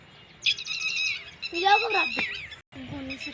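Sparrows chirp in bright, quick bursts, close by, in several short runs with brief pauses between them.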